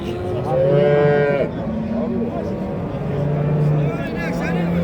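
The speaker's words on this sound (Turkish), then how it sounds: "Büyük inek var. Buzağı da var." A big cow lows at a livestock market in Çorum, Turkey, where a calf is also penned nearby. Two loud, drawn-out moos come close by, one early and one later, with people talking around them.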